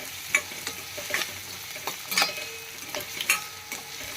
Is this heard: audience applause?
no